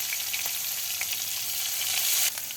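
Onion, garlic, dried and green chillies frying in oil for a jute-leaf stir-fry, a loud continuous hiss of sizzling close by with a few small stirring knocks.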